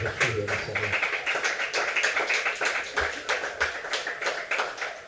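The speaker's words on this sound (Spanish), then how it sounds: "denle un aplauso fuerte a Jesús de Nazaret" Congregation claps steadily in church, a dense run of hand claps filling the room through the whole stretch, with a voice over the opening moment.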